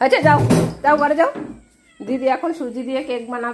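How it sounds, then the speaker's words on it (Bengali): A cat meows repeatedly and loudly up close in a drawn-out, wailing series, overlapping with people talking. "বিড়াল ডাকছে, এখন মনে পড়েছে।"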